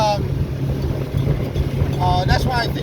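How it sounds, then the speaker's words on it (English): A 2007 Boston Whaler 20 motorboat runs at about 30 mph, its engine a steady low drone mixed with wind and water rush, while people talk over it. "I'm just gonna pop it to it so you can see that the engine's got good power, going 30 miles an hour right now"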